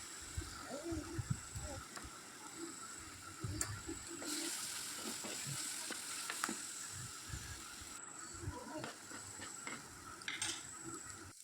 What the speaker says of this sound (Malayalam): എന്നിട്ട് അതൊന്നും കൂടി എണ്ണയിലിട്ടൊന്ന് മൂപ്പിച്ചെടുക്കണം.